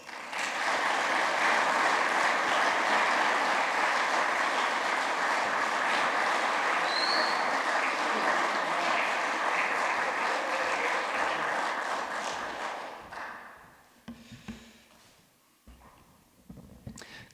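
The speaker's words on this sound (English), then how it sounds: "Give him a warm applause, Mr. Kevin Wells." Audience applause welcoming a speaker to the stage, a dense, sustained clapping from a sizable crowd that holds steady for about twelve seconds, then thins out and fades to scattered claps.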